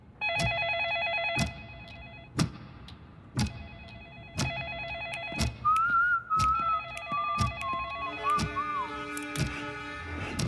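A phone rings repeatedly with a steady electronic tone, while sharp clicks punctuate it and a wavering whistle drifts over the ringing.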